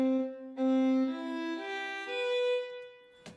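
A virtual string instrument in notation software plays a slow melody with sustained bowing. Smooth held notes step upward one after another, clean and moderately quiet, with a brief knock at the very end.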